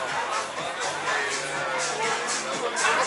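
Crowd of people chatting at a busy waterfront bar in Vienna at night, a steady hubbub of overlapping voices with no single speaker standing out, fairly constant in level throughout.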